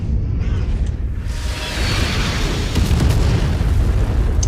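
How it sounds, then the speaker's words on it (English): Artillery shells explode in a MechWarrior 5 battle, a sustained, loud low rumble of booming blasts rolling continuously with bursts layered on top and no talking. "I hate artillery. Absolutely hate artillery with a passion."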